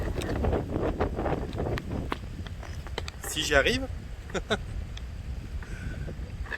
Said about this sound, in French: Il y a un vent, c'est juste incroyable, vous vous rendez pas compte.